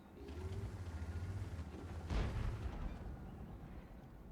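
Tank guns firing in a tank video game: a low rumbling bed of engine noise, then one muffled boom with a crack near the middle that fades out, heard faintly and at a distance.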